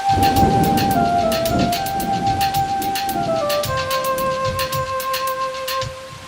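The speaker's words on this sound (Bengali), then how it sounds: "হঠাৎ বৃষ্টি শুরু হলো" Story sound effect of sudden rain with thunder: a dense, loud, steady rain wash over deep rumbling, with a bright chiming pattern ringing above it throughout.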